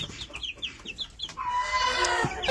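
Young Ko Shamo chickens, about a month old, cluck and chirp in a series of short calls, with a longer, louder call rising near the end.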